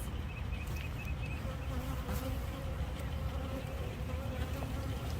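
Honeybees from a package being installed into a hive make a dense continuous buzz, close and loud, steady throughout with no pauses.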